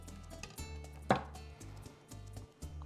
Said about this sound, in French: des tranches d'orange. Donc, je vais juste la couper comme ça